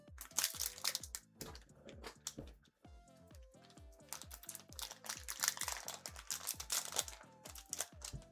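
Trading card packs from a 1996/97 Premier League Gold box are torn open, with crinkling foil and rapid crackling wrapper sounds in quick bursts close by, over soft background music.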